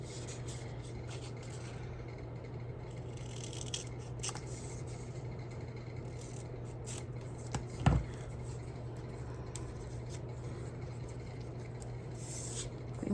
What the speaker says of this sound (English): let's get some scissors.